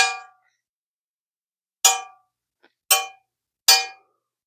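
A Type XVA hand-and-a-half sword slides into its scabbard. Four short metallic rings sound, each fading quickly: one at the start and three more spaced about a second apart, with silence between them.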